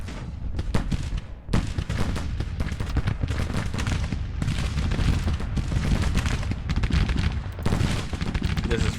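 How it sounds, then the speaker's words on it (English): Artillery fire from 24-pounder howitzers in the Grand Tactician Civil War game, heard as a dense, continuous battle din of booms and crackling gunfire, loud and sustained throughout. "Now we got those 24-pounder howitzers opening up."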